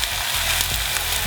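Bacon and sausages frying in a Tefal wok, a dense, steady hiss of sizzling fat with small pops, close and fairly loud, with no voices.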